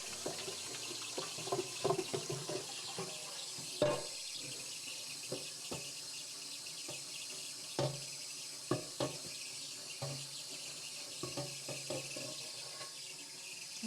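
Water runs steadily from a tap, a continuous hiss with intermittent splashes and clatters, while insects chirp faintly in the background.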